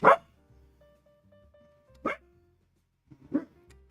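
A dog barks three times indoors, sharp separate barks spaced roughly a second and a half apart, with quiet room tone and a faint tonal hum between them.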